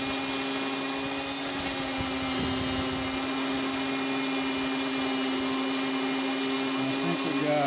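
A power sander works over a carved rock with finer-grit paper, a continuous steady whine and grinding hiss with little change, loud and close.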